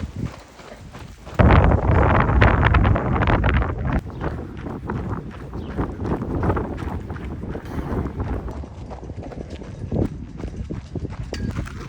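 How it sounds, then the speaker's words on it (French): Wind buffets the microphone of a runner on an outdoor training run, a loud, steady rumbling roar that rises sharply after a quieter opening second and keeps gusting unevenly throughout. "il y a du vent"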